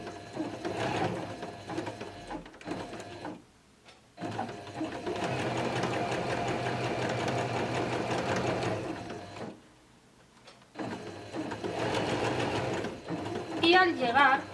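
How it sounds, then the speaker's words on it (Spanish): A sewing machine stitching a hem runs in long steady buzzing stretches, stopping twice briefly, close and clear with a person speaking between runs. "Por lo tanto, empezaríamos a coser."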